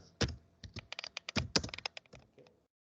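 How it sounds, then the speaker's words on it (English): Someone types taskmgr on a computer keyboard, a quick close run of crisp clicking keystrokes that ends after about two and a half seconds and is followed by silence. "Another one is in run or in a command prompt, type taskmgr."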